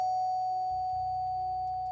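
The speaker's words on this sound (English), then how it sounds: "Then came the doorbell." A doorbell chime sound effect sounds as a steady, clear tone that holds and slowly fades, with nothing else around it.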